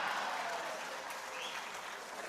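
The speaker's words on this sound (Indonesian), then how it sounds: "sedikit-sedikit tepuk tangan, tepuk tangannya keras lagi." An audience at the LDII 2023 national working meeting applauds Prabowo's political speech, a dense, steady burst of many hands clapping that slowly fades, with no talk over it.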